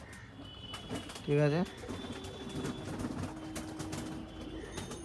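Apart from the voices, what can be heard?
pigeon on the rooftop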